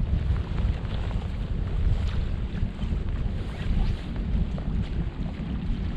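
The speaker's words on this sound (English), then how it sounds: "The wind is right in my face now" Strong wind buffets the microphone on a lake shore during bank fishing at Llyn Clywedog, a steady, loud, low rumbling roar throughout with no voices.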